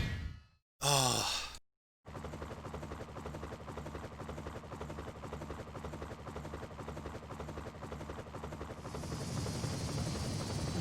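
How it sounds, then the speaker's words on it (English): A helicopter in the video game Metal Slug 3D, a steady whirring rotor drone with rhythmic blade pulses that starts after a brief gasp-like sound and continues loud and unbroken. "Why is their helicopter the same as Morden's but colored blue"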